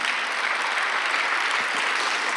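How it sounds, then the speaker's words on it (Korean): A church congregation claps during a Sunday worship sermon, a dense, even wash of applause filling the room at a constant level from start to finish. "빨리 박수."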